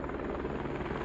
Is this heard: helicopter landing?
yes